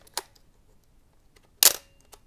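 Two sharp mechanical shutter clicks from a loud, simple film camera with a wind lever and shutter speed dial, fired about one and a half seconds apart, close and crisp with quiet between.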